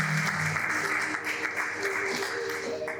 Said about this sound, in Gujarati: ત્યારે એકવાર જોરદાર તાળીઓથી પૂજ્ય સંતોને પણ આપણે વધાવી દઈએ